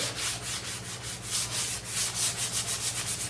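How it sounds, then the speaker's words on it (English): Steady rhythmic scratchy rubbing of a sanding block across a painted surface, back-and-forth strokes in quick succession, close and continuous. "we're going to use this sanding block and see if we can get"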